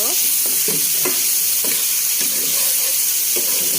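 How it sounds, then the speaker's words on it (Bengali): Onion and cumin paste with bay leaf, cardamom, cinnamon and clove fries loudly in a pan for a liver bhuna, a constant close sizzle cut by repeated rhythmic scrapes of a stirring spatula; no voices. "সব মশলা দিয়ে এবার খুব সুন্দর করে নেড়ে দিব নেড়ে মিশিয়ে দিব"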